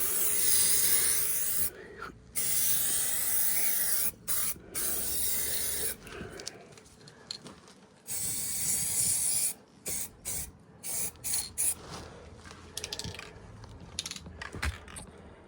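Spray can applying a second coat of primer to a Ford Ranger body: long steady hissing bursts separated by short pauses, close and fairly loud, with faint clicks and handling noise in between.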